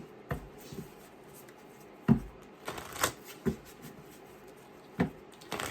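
Tarot cards shuffled by hand, a series of brisk papery riffles and taps at irregular intervals, close and fairly quiet with no talking.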